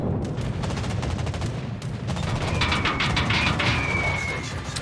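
Naval gunfire in a World of Warships-style game, a rapid series of sharp cracking shots and booms in quick bursts over a rumbling background, with a brief tonal whistle partway through.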